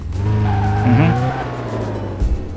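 A car takes a corner close by, its engine droning as the tires squeal briefly, the noise swelling and then easing off with a short thump at the end.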